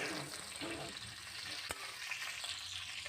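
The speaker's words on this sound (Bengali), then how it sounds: "এদিকে সবজি, আলু, ফুলকপি এগুলো এক এক করে ভেজে নিচ্ছি।" Potato and cauliflower pieces fry in oil in a pan, giving a continuous moderate sizzle with a sharp clatter midway and light stirring noises.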